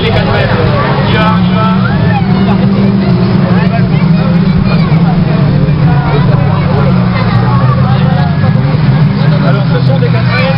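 Stock cars with 4-metre bodies and original R4 and R5 engines race in France, their loud, continuous engine roar blending with a crowd's babble and a commentator's voice throughout.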